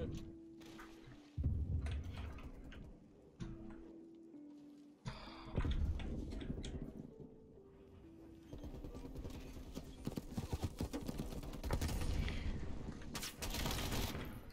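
Gunfire from a weapon in Call of Duty Black Ops Cold War, during a multiplayer beta match, heard as several loud bursts and sustained shots amid game sound effects and music.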